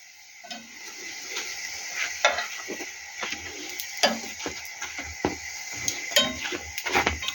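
Pancake batter sizzles steadily in a hot frying pan, with occasional clicks and scrapes of a utensil close by.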